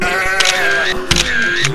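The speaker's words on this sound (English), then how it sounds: "You're right, it's a sheep." A sheep bleats twice in quick succession, each call a wavering, nasal baa rising and falling, heard close and clear with no voices over it.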